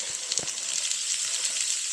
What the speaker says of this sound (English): We're fixing to saute our vegetables in our wok.